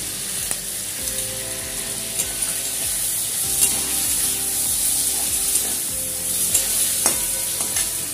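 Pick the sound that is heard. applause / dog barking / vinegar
vinegar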